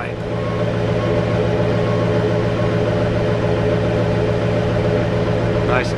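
2008 Ford F250 4x4 diesel pickup idling, heard close at the exhaust pipe as a steady, even low rumble with a constant hum, unbroken for several seconds.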